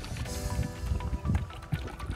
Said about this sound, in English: So let's give it a little shake so we can get that